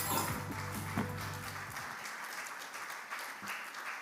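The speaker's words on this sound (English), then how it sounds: "thank you very much for that wonderful clap" Audience applause at an AI summit session rings out as dense clapping at the start, then thins into a softer patter of scattered claps over a few seconds.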